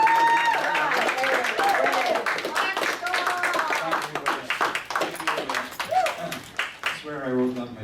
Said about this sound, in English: let's have a big round of applause for our very own Sean